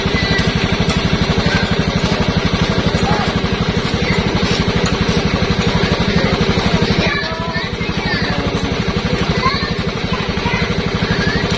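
A motorcycle engine runs steadily and loud at close range, its rhythmic low putter continuing throughout, with people's voices faintly mixed in.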